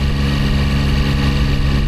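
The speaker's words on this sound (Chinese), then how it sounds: "包括我们现在来听一下它发动机运行的这种声音" A Zontes 703RR motorcycle, a roughly 700cc heavy bike, running in second gear at a steady throttle, a smooth continuous engine drone heard up close without pause, no talk.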